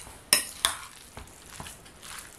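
Soaked bread being worked into a stuffing for butternut squash, with two sharp utensil clinks against a bowl followed by softer, quieter stirring and mixing sounds, close up.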